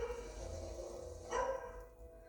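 At an animal shelter, a dog gives a short faint whimper and a brief yelp against quiet room noise.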